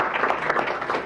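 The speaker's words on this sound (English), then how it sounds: "So, a round of applause." Brief applause from attendees at a city council study session: a short, even patter of many hands clapping, moderately loud in the room.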